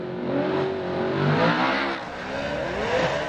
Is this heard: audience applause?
no